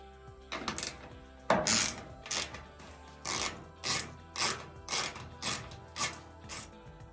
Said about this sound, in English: Remove the external ground connector, the green screw, with an 8mm wrench.